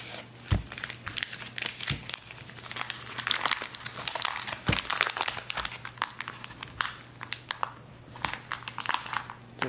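Modelling clay being torn off in chunks and pressed onto a plate, giving dense crinkling, crackling and soft tearing sounds close to the microphone, with sharp snaps scattered throughout and no talking.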